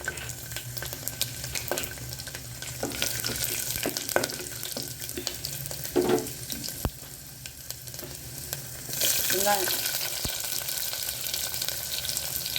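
Onions fry with cinnamon, cloves, bay leaf and garlic for tomato rice, a continuous close sizzle with occasional stirring scrapes, swelling louder toward the end, no talk.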